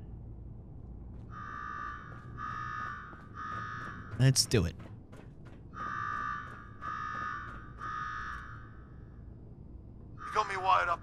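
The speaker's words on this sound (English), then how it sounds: "Now go shut off that damn alarm" A Fallout 4 Nuka World alarm blares in repeated pulsed buzzing tones, with short gaps between bursts and a loud sudden clatter partway through. A voice speaks briefly near the end.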